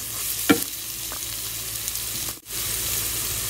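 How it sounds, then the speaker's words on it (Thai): Chili curry paste stir-frying in a pan with bamboo shoots nearby, a steady close sizzle and frying hiss throughout, broken by a couple of scraping stirs near the start and a brief dip in the sizzle toward the end. "ผัดพริกแกงให้หอมนะ"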